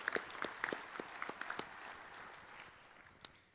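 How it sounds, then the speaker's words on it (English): Faint, scattered clapping from a few hands at a breakfast meeting, quickening briefly and then thinning out, with one last clap near the end. "let's give Marjorie a round of applause for her work leading that committee."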